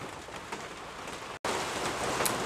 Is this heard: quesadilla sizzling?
no